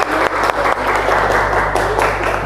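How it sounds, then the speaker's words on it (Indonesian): Students in a mathematics classroom clapping together, a loud steady burst of applause that stays dense throughout, with no talk. "Oke, tepuk tangan."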